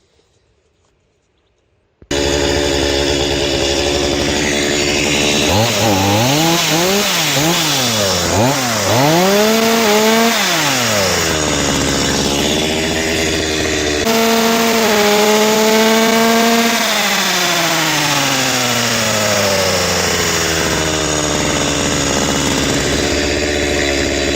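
A chainsaw roars to life after a brief silence, its engine revving up and down repeatedly before settling into a loud, steady run.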